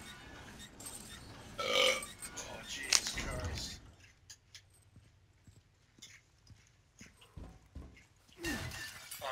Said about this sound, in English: Homer Simpson burp